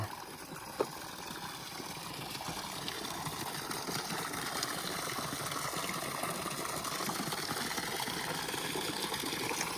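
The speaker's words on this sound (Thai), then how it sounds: "พอดีสิเบิ่งน้ำไหลออกท่อระบายพอดีแล้วมันสิไหลพอดีป่ะ" Water gushes steadily out of a drainage pipe set into a repaired farm canal, a faint, continuous rushing wash heard alone from a short distance.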